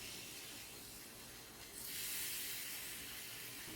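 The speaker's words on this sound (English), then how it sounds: "Put the meat on a scorching hot pan." Meat seared on a scorching hot pan gives a steady close sizzle that swells suddenly into a louder, brighter hiss partway through, with no talking.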